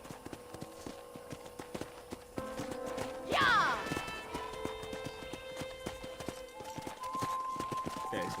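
Horse hooves clip-clop in a steady rhythm while riding in the video game Red Dead Redemption, close and continuous, with a brief whinny in the middle and a person talking over the hoofbeats.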